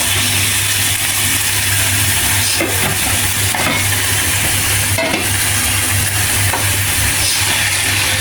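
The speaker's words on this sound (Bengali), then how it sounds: "এখন এর ভিতরে আমি কচুগুলি ঢেলে দিব" Pieces of taro are tipped into a pan of fried onions and coriander, setting off a loud, dense sizzle that holds steady throughout, with scattered stirring clicks and scrapes; no talking is heard.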